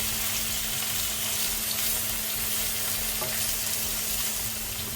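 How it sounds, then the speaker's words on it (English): Garam masala is added to vegetables sizzling in a pan for a vegetarian salad; a steady, even frying hiss continues with faint stirring, fairly quiet and unbroken. "And at this point I'm going to add garam masala as well."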